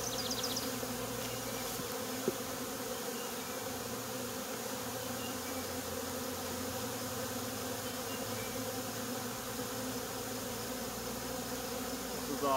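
Honeybees at an open hive during a split, a dense steady buzz of many insects close by, unbroken and even in loudness for the whole stretch.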